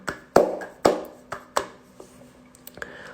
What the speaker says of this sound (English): I give her a clap for being in Key Club.